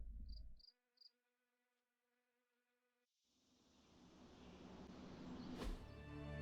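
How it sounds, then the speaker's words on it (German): Crickets in Marvel: Midnight Suns give three quick high chirps near the start, followed by a faint lingering tone, then a swelling wash of rushing ambient noise and a sharp thunk near the end. "Ich höre Grillen."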